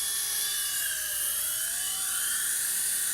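A small toy helicopter flies close by with a steady high-pitched electric whine and rotor buzz, its pitch drifting slightly as it hovers, loud and uninterrupted.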